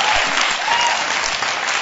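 An audience claps steadily at an arts anniversary event, a dense, even wash of applause from a crowd filling the room for a couple of seconds.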